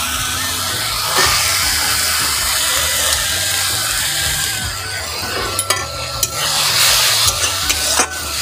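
Spice paste and chopped tomato fry steadily in a pan, giving a continuous loud sizzle broken by sharp clinks and scrapes of a stirring spoon toward the end.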